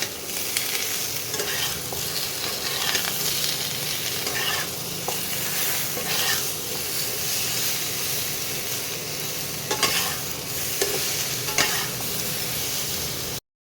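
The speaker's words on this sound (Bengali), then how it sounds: "এবারে ভালো একটু ভেজে নিতে হবে এই আনাজগুলোকে।" Vegetables for a Bengali fish curry, seasoned with turmeric and salt, frying and being stirred in a pan: a steady close sizzle with repeated scraping stirs, heard alone without talk.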